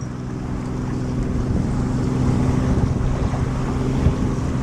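A steady wind-and-water rush rolls under a low, droning motor hum, recorded from a boat on open water while the Oracle USA America's Cup racing sailboat practices nearby. No voices are heard.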